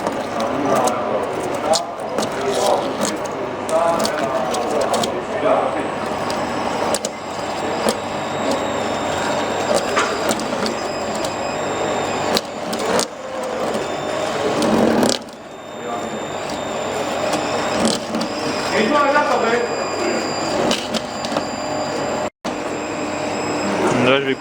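A flake ice machine runs loudly and continuously, a dense mechanical drone with grinding and scraping texture, a brief cut-out near the end, and voices talking over it.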